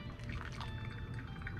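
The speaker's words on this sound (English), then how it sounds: "we should be able to fit the last of our water in, going up to 500 grams" Water poured over coffee grounds in a brewer during a Koji coffee tasting, a steady close liquid pour with a bubbling, gurgling texture throughout and no talking.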